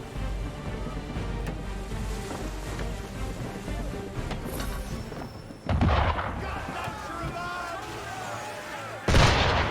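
Cannon blasts from a ship in Assassin's Creed III, heavy booming reports over a continuous low rumble of battle ambience, with two sharp loud bursts standing out near the middle and end while voices talk throughout.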